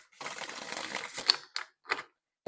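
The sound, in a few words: shuffling tarot cards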